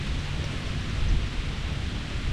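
Thunderstorm over Charles Mill Lake during a kayak fishing trip, steady broadband rain noise with a low continuous rumble of thunder throughout, fairly loud and close, no talking.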